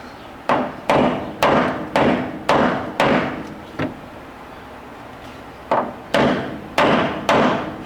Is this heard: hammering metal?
yes